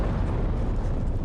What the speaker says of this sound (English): That's the sound the bomb makes in Australia.